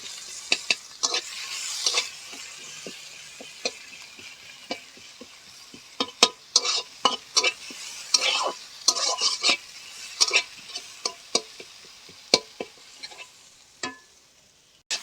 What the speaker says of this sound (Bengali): এবার দিয়ে দিব একটা পেঁয়াজ কুচি পেঁয়াজগুলোকে হালকা লাল লাল করে ভাজবো